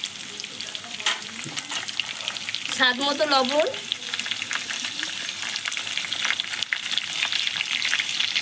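Potatoes and drumsticks fry with chopped tomato in a pan, a steady loud sizzle with stirring scrapes throughout, while someone speaks briefly over it.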